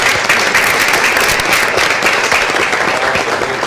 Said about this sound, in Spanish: Fuerte el aplauso para la gente que está del otro lado.